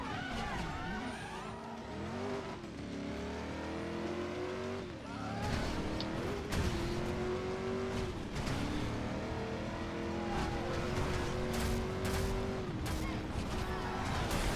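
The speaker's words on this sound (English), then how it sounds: "I'm just gonna floor it, okay?" A car engine roars at full throttle in the Driver: San Francisco video game, revving up and shifting through gears with tire squeal, loud and continuous over game music.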